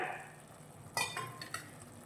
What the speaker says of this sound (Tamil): புடலங்காய், எல்லாத்தையும் மசாலா கூட சேர்த்து மிக்ஸ் பண்ணுங்கள்.